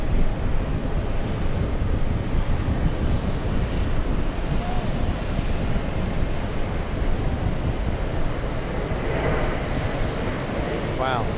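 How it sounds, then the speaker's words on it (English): A Delta Airbus A330-300 near JFK gives a steady, loud, broadband engine roar mixed with wind noise, continuous throughout, while people talk. "Delta 47 flying in from Amsterdam, the A330-300."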